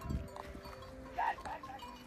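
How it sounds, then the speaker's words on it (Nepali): A flock of sheep on a mountain trail on the Dudhpokhari trek. A single faint bleat stands out briefly against a quiet outdoor background, with a hint of a bell. "भेडाको बथान"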